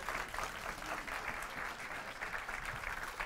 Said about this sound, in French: Est-ce qu'on peut applaudir les enfants?